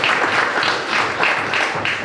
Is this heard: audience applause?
yes